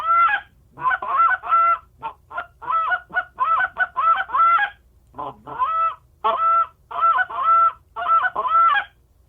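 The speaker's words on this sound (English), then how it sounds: "Can you give us an example of what a goose call sounds like?" A Rumbler goose hunting call is blown in quick bursts of loud, nasal honks, close and clear, with short clusters of calls separated by brief pauses.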